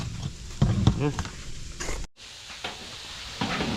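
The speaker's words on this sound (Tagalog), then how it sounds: "So si Jepoy na lang nagpiprito ng Fried chicken" Oil sizzles and crackles steadily as chicken fries, with a few clattering knocks and stirring sounds over the hiss.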